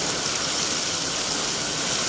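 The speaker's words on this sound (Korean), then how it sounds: "Rain started to fall." Steady, even wash of heavy rain pouring down, a loud continuous hiss with no breaks and no voices, used as a storm effect in a retelling of a Greek myth's great flood.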